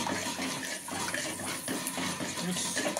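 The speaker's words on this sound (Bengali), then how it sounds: "এবার আমি জল দেবো" Water pours steadily into a cooking pot of potatoes set to boil for a duck egg curry, a continuous close splashing gush lasting the full few seconds, with no talking.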